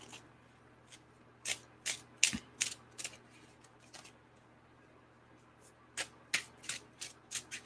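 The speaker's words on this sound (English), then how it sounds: "I'm just going to sit here shuffling quietly" Tarot cards are shuffled quietly at close range in bursts of crisp riffling flicks, with short pauses between groups and a soft background hum.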